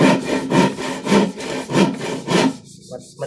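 A hand saw cuts through hard wood in steady back-and-forth strokes, about five rasping passes close by, stopping near the end.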